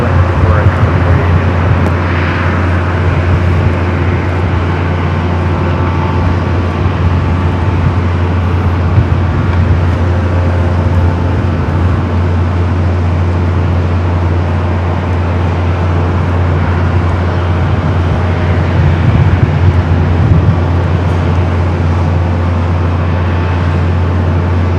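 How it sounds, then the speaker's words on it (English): A Delta Airbus A321neo arriving at LAX from Minneapolis makes a loud, steady jet roar that lasts throughout, with people talking over it. "Here on the north side at Delta Flight 2119, coming from Minneapolis, an A321neo."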